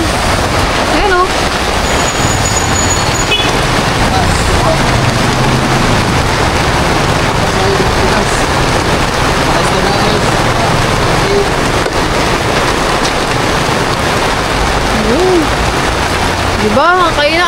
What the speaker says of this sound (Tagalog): napatigil kami dito sa may baybay, ang lakas ng ulan.